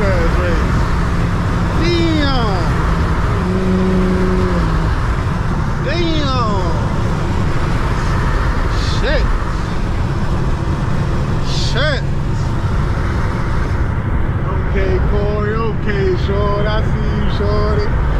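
Two Infiniti G37s race on a road in Mexico, one fitted with test pipes and one without. A loud, steady engine and road roar fills the whole stretch, and people talk over it.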